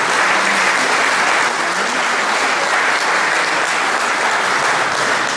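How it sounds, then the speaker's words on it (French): A hall full of people applauds national medal winners at a sports association's annual general meeting, with loud, dense, continuous clapping from start to finish. "Je vous demanderai d'applaudir tous ces médaillés nationaux."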